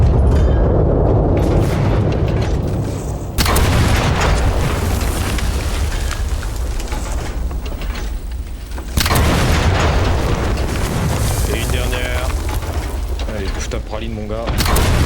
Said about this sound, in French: Les explosions dans le jeu, hein.